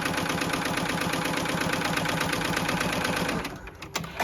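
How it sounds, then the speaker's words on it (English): A JUKI embroidery machine stitching a placement line for a quilt block, its rapid, even mechanical needle rhythm running loud and steady for several seconds before stopping with a few small clicks. "I am going to touch start, and this will sew my green placement line"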